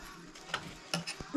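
Sewing machine mechanism while hemming fabric for a camper build, quiet mechanical whirring with a few sharp clicks and clunks, close and soft, no talking.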